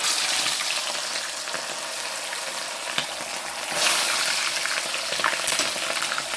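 Milkfish frying in a hot pan gives a dense, continuous close sizzle that swells briefly partway through, with occasional small pops and no talking.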